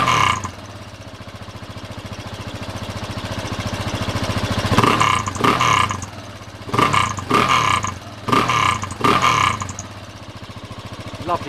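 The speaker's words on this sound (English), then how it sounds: "Just give the throttle a blip so you can hear that exhaust." Single-cylinder motorcycle with a standard exhaust idles steadily, then several sharp throttle blips burst out as raspy revs, four or five quick surges rising and falling back to a close, loud idle.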